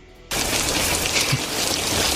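Heavy rain in a movie scene starts abruptly after a brief near-silent moment, then pours on as a dense, loud hiss of drops hitting surfaces without pause.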